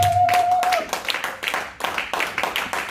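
A church congregation claps in a steady, rhythmic beat during worship, the bright hand claps repeating evenly and filling the room, with faint voices mixed underneath.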